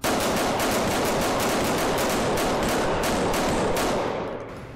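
Rapid bursts of video game gunfire, including shotgun blasts, crack out in quick repeated volleys at close range, loud and continuous for several seconds before tailing off, with no talk over them.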